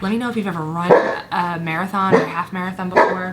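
A dog barks in short bursts indoors behind someone speaking close to the microphone, its yips partly masked by her voice.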